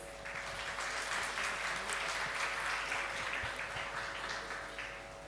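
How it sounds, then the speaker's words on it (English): Audience applause for winners at the Golden Key Awards 2025 ceremony, a dense, even wash of many hands clapping throughout, softening slightly at the close, with a faint steady hum beneath. "A round of applause once again for our winners."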